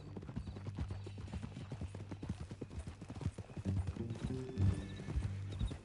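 Steady clip-clop of video game horse hooves on PS4, with the horse neighing and snorting, heard over a low background score with no talking.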